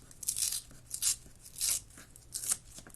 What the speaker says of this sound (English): I'm going to tear towards me.